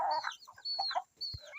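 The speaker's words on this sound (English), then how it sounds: "Chickens, do you people have any other work apart from eating?" Chickens feeding cluck close by in a quick run of short, throaty calls, with brief pauses between bursts.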